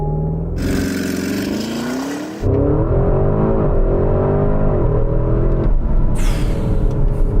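Porsche Cayenne Turbo GT SUV launching hard to 60 mph, a loud engine roar that builds steadily through rising gear pulls with shifts, close and continuous with no talking.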